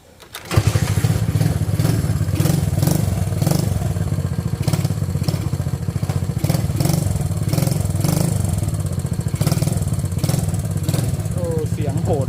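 An older Honda CB motorcycle engine cranks and catches within the first second, then settles into a loud, close, evenly chugging idle that runs steadily to the end, with someone speaking over it.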